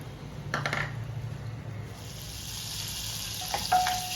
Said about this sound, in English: So adding the butter into the pan